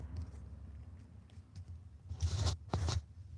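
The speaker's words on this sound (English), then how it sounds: "Let me shuffle a little bit more." Deck of cards shuffled by hand, with soft shuffling and a couple of brisk riffling bursts near the end, close and moderately loud over a low room hum.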